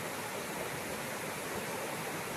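Steady broadband roar of the Cachoeira da Torre waterfall high in the Serra do Mar, a continuous rushing wash of falling water heard up close with no voices.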